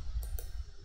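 Mouse clicks while selecting an option in Informatica Cloud software, two quick faint clicks close together at a desk, with no talking.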